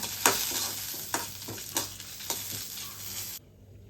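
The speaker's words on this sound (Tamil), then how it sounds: "கடலைப்பருப்பும் உளுந்து பருப்புமே நல்லா பொன்னரமாக வறுக்கணுங்க" Chana dal and urad dal roasting dry in a pan for coconut-based avaram poo chutney make a soft rustle, with about five sharp spatula scrapes spaced roughly every half second before an abrupt stop.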